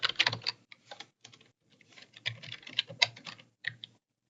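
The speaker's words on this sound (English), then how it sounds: "go ahead and type in my email address" An email address is typed on a computer keyboard: close, crisp key clicks in quick uneven bursts, with short pauses between groups of keystrokes.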